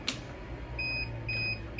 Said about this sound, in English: you'll hear an audible beep letting you know that power's been cut to the unit